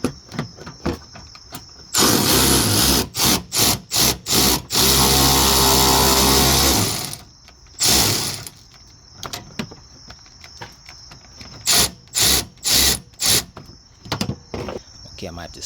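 A ratchet with a mini extension works a rusty 10mm bolt on an Infiniti G37 near the bumper, producing rapid, loud clicking strokes close by, with a long continuous stretch of ratcheting in the middle.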